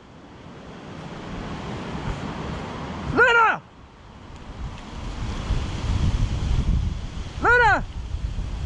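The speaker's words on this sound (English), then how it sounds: "it's just going to be a steady wind blowing from the sea" Steady wind blowing off the sea mixes with surf roar in a continuous loud rush, broken twice by a voice calling out to a dog.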